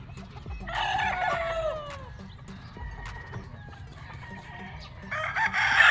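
A yellow-legged Sweater Gilmore gamefowl rooster at a game farm crows in a drawn-out call, joined by nearby clucking and other fowl, with a second loud crow starting near the end.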